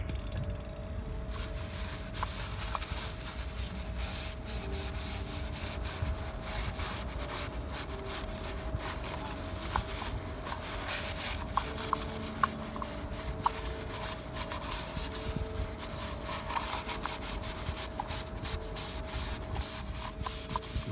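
Steady scrubbing and rubbing inside the bottom of a 2.0 TDI diesel filter housing during a filter change, a continuous close abrasive scraping with small scattered clicks, no talking.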